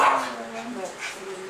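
A dog barks and yips at close range in a home during a family dinner, with people talking over it.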